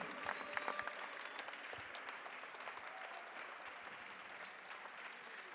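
An audience applauds at the closing ceremony of a main-stage event, dense sustained clapping from a sizable crowd filling the whole stretch, with a few faint voices mixed in.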